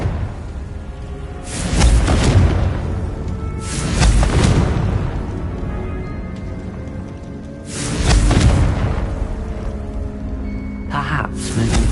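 Confringo blasting-curse explosions in the Hogwarts Legacy video game on PS4, four loud booming bursts spaced a few seconds apart, each with a rumbling tail.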